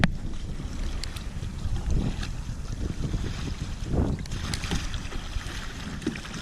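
Strong gusty wind buffets the microphone during a kayak fishing tournament, producing continuous rough low rumbling with bursts and rustling, over faint water sounds near the kayak.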